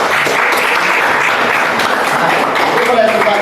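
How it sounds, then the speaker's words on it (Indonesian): Students in a classroom give a group of presenters a round of applause, a loud close burst of clapping with voices mixed in. "benar-benar tepuk tangan dulu buat kelompok"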